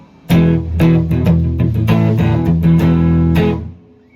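A distorted electric guitar through a Super Distortion pickup plays a short loud riff of chords and notes, gritty and sustained, ringing out briefly at the end.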